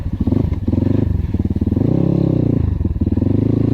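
A KAYA 612 motorcycle runs close up with a loud, throbbing engine note that pulses steadily, swells briefly in the middle as the revs rise, then settles back, with no voices.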